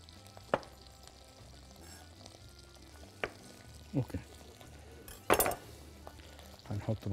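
Mushrooms and Brussels sprouts fry quietly in a pan under a low sizzle, with a few sharp clinks and scrapes as they are stirred.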